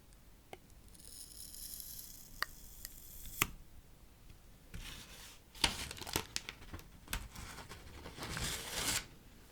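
A sheet of paper is slid into a stamp, giving soft papery scrapes and crinkles with a few sharp ticks, close and fairly quiet, with denser rustling bursts in the second half.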